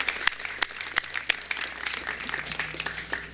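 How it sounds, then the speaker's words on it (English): Applause from the audience at the Illinois State Fair 2024 ribbon cutting ceremony, a steady wash of many hands clapping with a few sharper nearby claps standing out, no voices over it. "a huge round of applause for Becky and the team of 8"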